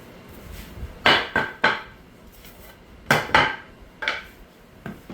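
Metal woodworking clamps taken out and handled, giving a few sharp clanking knocks in two short clusters, close and fairly loud.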